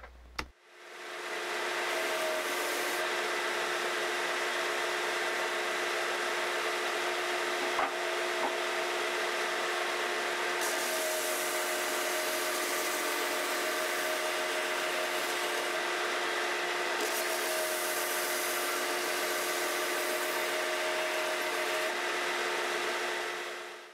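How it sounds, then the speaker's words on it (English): Power sander working over wooden rocking horse parts, a steady continuous broadband whir running loud and unbroken from start to finish with no talk. "I find that sanding the parts individually allows me to use my machines to better effect"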